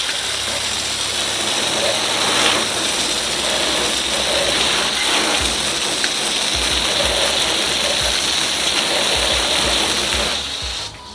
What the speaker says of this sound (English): We have a hose. Now the key here is to get it into a spray pattern